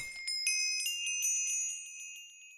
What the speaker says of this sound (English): So apparently that little jingly sound is the sound of the new level up sound.